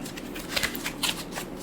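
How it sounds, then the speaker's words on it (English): Tarot cards shuffled by hand, a soft continuous riffling and rustling with a few crisper flicks, close and fairly quiet, with no talk over it. "so I shuffled your cards"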